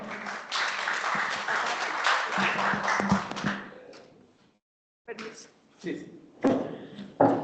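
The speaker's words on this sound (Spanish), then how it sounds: "Fuerte los aplausos, por favor" Audience applause at a university communication symposium, a loud burst of clapping that fades out, then near silence before a voice and scattered thumps follow.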